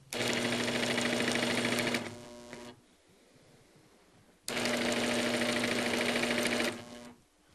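A sewing machine stitches a row of quilt pieces in two fast, loud, steady bursts of rapid whirring needle action, each about two seconds, separated by a quieter pause, close up with no speech.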